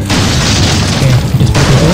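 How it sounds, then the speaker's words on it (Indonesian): Shotgun blasts breaking enemy shields in the video game Resident Evil 4, a loud, dense run of booming shots with no pause, heavy and continuous across the whole stretch. "kita pakai shotgun aja untuk memecah tameng mereka ya"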